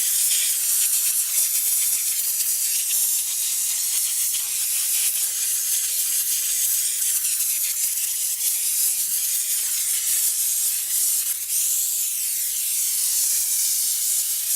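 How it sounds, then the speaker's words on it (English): A steam cleaner gives a steady, loud hiss that runs continuously without a break, bright and airy, close to the source. "I've steam cleaned a lot of stuff with this, motorcycle wheels, car wheels"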